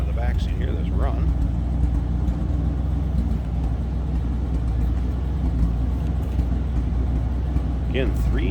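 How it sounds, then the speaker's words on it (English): A 1958 Oldsmobile 88 hardtop with a 394 Olds V8 idles, heard from the rear of the car as a steady low rumble, with brief voices over it at the start and end. "Alright, slip around to the back so you hear this run."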